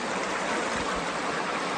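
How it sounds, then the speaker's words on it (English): Creek water flowing steadily where it spills out from a hillside beneath a bridge, a continuous broadband rush and splash heard close and fairly loud, with no voices. "out from the hillside and then flows into the creek"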